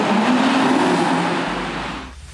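An Audi RS Q3 Sportback in RS mode with its exhaust flap open roars loudly and continuously up close, then cuts off and fades sharply near the end.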